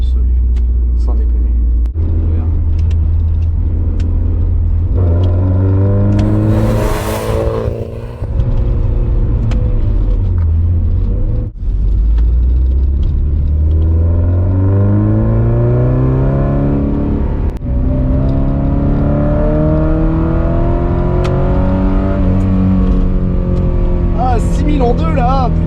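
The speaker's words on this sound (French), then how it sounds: "Ligne inox, franchement le son, on l'entend à l'arrière là." A car with a stainless steel exhaust line revs and accelerates through corners, its engine note rising and falling in long sweeps with a deep rumble heard from inside the cabin, while someone talks over it.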